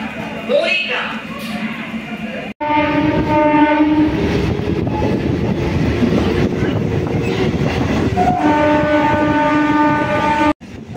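An electric-locomotive train near Howrah sounds its horn in long sustained blasts, with a steady rumble of rail noise in between and some background voices.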